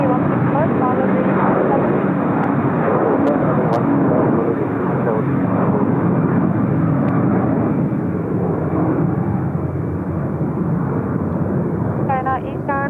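A UPS cargo jet rolls for takeoff at Seoul Incheon Airport, a loud continuous engine roar that holds steady throughout, with people talking over it and radio chatter in the background.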